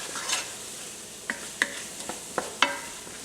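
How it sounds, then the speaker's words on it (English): Flour being stirred into chicken sizzling in a pan for sauce piquant, a steady fry hiss under a handful of sharp scraping strokes of the spoon against the pan, close and moderately loud. "we're going to stir in just a little bit of flour. And we'll give that a quick stir."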